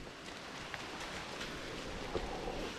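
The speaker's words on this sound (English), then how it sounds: "it started raining too much, so we're just gonna go." Soft, steady patter of rain, fairly faint and even throughout, with no voices.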